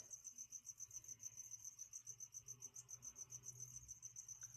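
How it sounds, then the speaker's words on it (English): Steady, rapid cricket chirping in a continuous pulsing rhythm, fairly close, with faint low rustling underneath and no voices. "I know there's a bunch of crickets in there running around"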